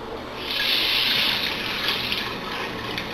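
Water is poured onto a perforated pearl oyster mushroom grow bag, making a steady soft gushing and splattering wash that rises after a moment and continues evenly throughout, close to the microphone.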